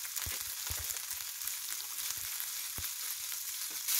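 Green peas cook in a pan for quinoa poha, a steady loud sizzle and frying hiss filling the background while a spoon stirs with soft, irregular scraping knocks against the pan.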